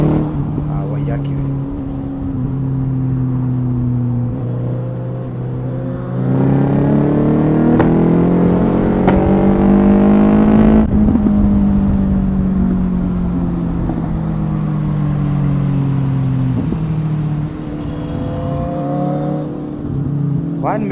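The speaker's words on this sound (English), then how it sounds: "It's the Magnum edition, whereby it has bans and pops each time you engage the gears" Suzuki motorcycle with a Shift Power UK Magnum exhaust riding on a forest road, its engine droning and rising through revs with brief sharp pops at gear changes, under a talking voice.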